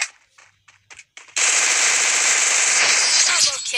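Rapid automatic gunfire in the Free Fire mobile battle royale game erupts after a few short shots and rattles on loudly and continuously for several seconds.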